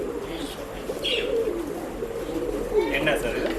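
Pigeons for sale at a pet shop in Bangalore coo softly and repeatedly, with faint chirps over a steady low background murmur.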